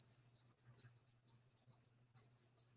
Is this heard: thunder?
no